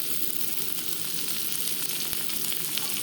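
Onion, green chilli and potatoes fry in a pan of oil, giving a loud, continuous, close sizzle with fine crackling throughout and no voices.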